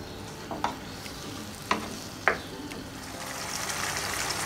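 Chicken cooking in a karahi crackles with a low, steady sizzle while a spoon stirs it, leaving a few distinct scrapes and knocks against the metal. The frying hiss grows slightly louder toward the end, and no one speaks.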